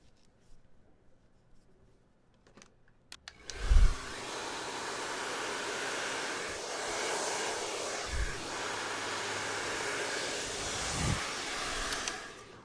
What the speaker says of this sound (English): To start, I set my blow dryer to high heat with high speed.